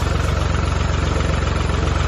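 A vintage tractor engine idles steadily on a freezing winter day, its even low chugging pulse close and continuous without a break.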